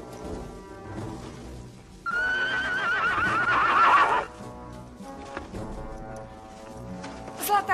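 A horse neighs loudly and close in a fantasy film scene, one long whinny over a couple of seconds. Softer hoof clops and low background sounds come before and after it.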